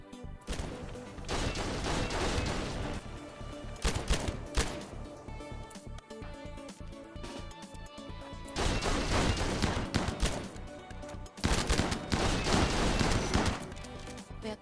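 Turret gunfire in a video game, long stretches of heavy, continuous shooting that surge louder in waves, with brief lulls between volleys.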